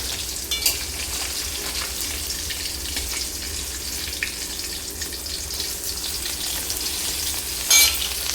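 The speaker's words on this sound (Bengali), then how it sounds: "এই পাশটাও আমি মাছগুলো ভালো করে ভেজে তুলে নেব" Rohu fish pieces fry in oil in a pan, a steady close sizzle with bursts of crackling and spattering, one louder flare near the end, no voices.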